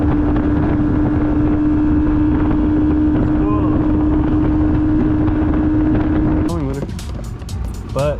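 A boat's outboard motor runs steadily with a constant drone under wind noise, then shifts and wavers near the end.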